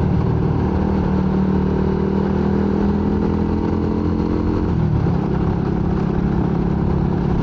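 A motorcycle engine on a touring ride hums steadily and loudly under heavy rushing wind, with a brief dip in pitch midway as the engine note falls, then it continues droning.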